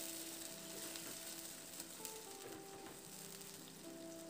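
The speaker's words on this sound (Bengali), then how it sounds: "এবার একটু নাড়াচাড়া করে নেব মশলাটাকে" Masala paste with a splash of water fries in a pan for a jackfruit curry, giving a soft, steady sizzle with a faint tune running underneath.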